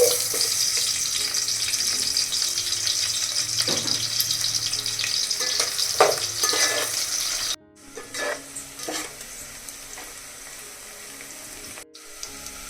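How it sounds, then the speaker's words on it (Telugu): Onions fry in two tablespoons of oil in a heavy pot, giving a steady loud sizzle with occasional scraping knocks. The sizzle drops abruptly partway through, then returns more softly with intermittent clatter. "ఫ్రైడ్ ఆనియన్స్ కోసం మందుపాటి గిన్నె పెట్టాం కదా టూ టేబుల్ స్పూన్ ఆయిల్ వేసాం కదా ఇప్పుడు దీంట్లో వేసేసుకున్నాం"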